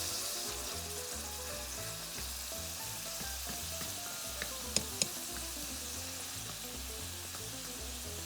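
Sofrito simmers and sizzles in a pan, a dense, steady frying crackle that stays close and even throughout, with a couple of small sharp ticks near the middle and no voices.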